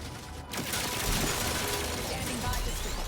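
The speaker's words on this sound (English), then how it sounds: "What is shooting at me?" Gunfire in a video game where hostile drones attack, a dense rattling burst of shots and mechanical clatter near the player, continuous and fairly loud across the short stretch.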